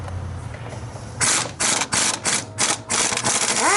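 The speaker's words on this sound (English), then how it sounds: "I use an impact wrench on the ones that are reachable with impact" Impact wrench hammering loose 15mm cylinder head bolts on a Chevy 5.3 Vortec LS engine, with several loud rattling bursts of varying length separated by brief pauses, all close up.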